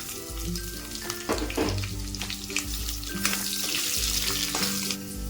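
Spices, onion, carrot and beans frying in a pan for a Telugu home recipe, a constant close sizzle broken by clattering stirs and scrapes.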